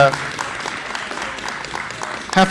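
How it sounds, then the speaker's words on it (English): Spectators applaud the exhibitors at a Jersey cattle show, with moderate clapping running under a voice that cuts in near the end. "I think we should give these exhibitors a great round of applause."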